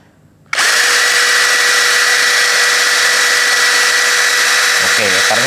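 A Doliz BD636 12V brushless cordless drill starts abruptly at its second speed setting and runs at a steady high whine, loud and close, from a quiet start to the end.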